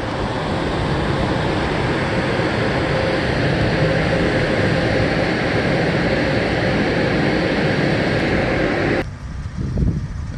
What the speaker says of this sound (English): our car wash is in the background. A little bit of noise from that